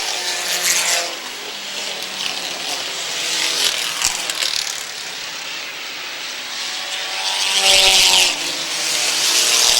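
A race car roars around an oval speedway during an end-of-season enduro at Airborne Speedway in Plattsburgh, New York, its loud engine droning steadily with passing surges and no talk.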